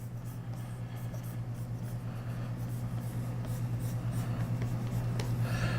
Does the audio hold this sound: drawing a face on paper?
yes